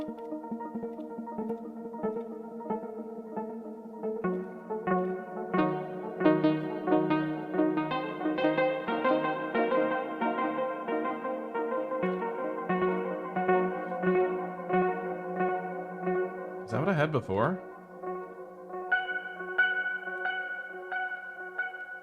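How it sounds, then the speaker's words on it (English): Sustained synthesizer chords from a Tonverk wash out into a long, dark reverb tail, with a brief swirling sweep near the end and a short spoken question. "That reverb sounds a lot like the Octatrack's dark reverb."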